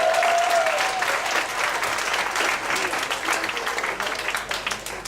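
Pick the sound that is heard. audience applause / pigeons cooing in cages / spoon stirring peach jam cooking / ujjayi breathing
audience applause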